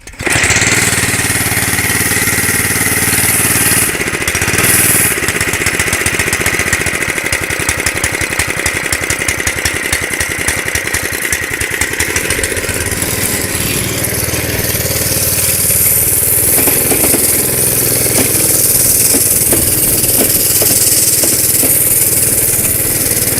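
A small Honda kart engine pulls over on its start cable and fires up, settling into a steady, loud, buzzing run heard close for the whole stretch with no talk.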